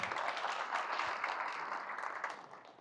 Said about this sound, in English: give yourselves a big round of applause for coming out for this greatest one